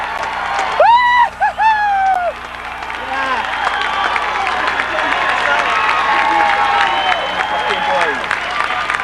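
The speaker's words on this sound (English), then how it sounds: "The crowd goes wild" Stadium crowd roaring and cheering at a 1997 AU versus UVA game, a loud sustained wash of voices with whoops, beneath an excited commentator talking throughout.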